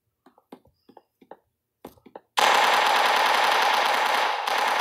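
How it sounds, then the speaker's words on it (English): A Tommy gun fires a long, continuous automatic burst in a video game, loud and sustained, briefly faltering near the end, after a few soft clicks and small sounds. "A Tommy gun."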